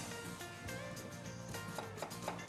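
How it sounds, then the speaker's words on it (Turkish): Steady knife chopping onion on a board, a dense run of quick cuts with low kitchen background noise throughout. "şöyle doğramaya başlayalım."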